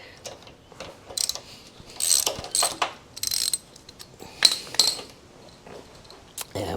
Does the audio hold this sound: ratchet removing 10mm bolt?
yes